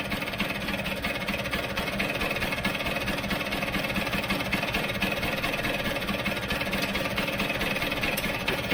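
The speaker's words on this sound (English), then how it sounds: "it will tick over slightly faster when the airbox is on it again" A Vespa GS scooter engine idles with its airbox off. The steady, close mechanical putter and rattle runs without a break, with no talk.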